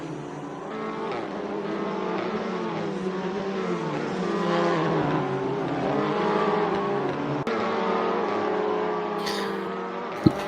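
Race cars from a 2019 WTCR Race of France in Assetto Corsa sweep through the Beausset corner, engines droning steadily and loudly throughout with shifting pitch, and a sharp click near the end.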